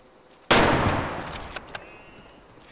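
A single loud rifle shot at a mule deer in the hunting game Way of the Hunter, a sharp crack with a long decaying tail, followed by a couple of faint ticks.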